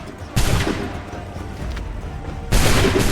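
Two massed musket volleys crack out in Assassin's Creed 3, each a sudden loud, ragged burst of many shots fired together, about two seconds apart, with a rumbling tail between them.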